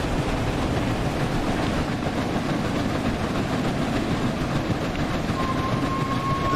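The Flying Scotsman steam locomotive rolls along in Train Sim World 4, a steady rumbling run with faint rhythmic clatter and a thin whistle-like tone near the end, heard alone without talk.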